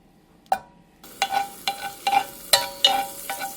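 Butter melting in a pan for homemade curry gives off a soft sizzle, with short clicks and scrapes as it is stirred around, close and fairly quiet, no talking.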